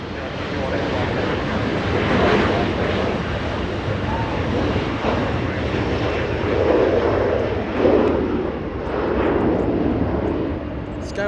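Alaska SkyWest regional airliner arriving at Los Angeles International Airport from Boise, Idaho, a loud, close engine roar that swells and fades in waves, with wind noise on the microphone and talk underneath.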